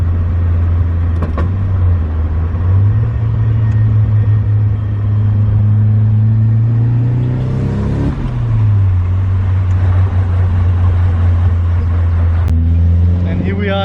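A manual-converted Nissan Silvia S13 drives along, its engine a loud, steady drone that climbs in pitch through the gears and drops between shifts, heard up close from inside the car.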